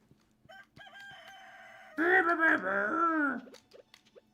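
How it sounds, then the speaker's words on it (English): Chickens in the farming game Stardew Valley, with a few short clucks followed by a loud, drawn-out rooster crow standing alone. "this is the sounds chicken make"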